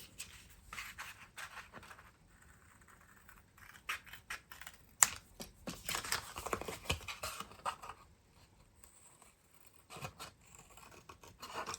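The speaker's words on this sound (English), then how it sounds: "I'm going to cut out the 3 outer squares" Scissors snip through card while a small gift box for a single Ferrero Rocher is cut out, a run of close, crisp cuts and scratchy rustles with brief quiet gaps between bursts.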